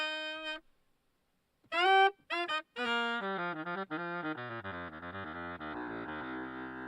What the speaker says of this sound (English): In this way I can blend the octave up and down sound like this.